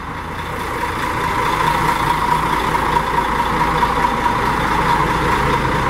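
Mercedes-Benz engine of a 360-horsepower Comil Campione Invictus DD double-decker bus idling, a steady, loud, close diesel rumble with a constant hum and no talk over it.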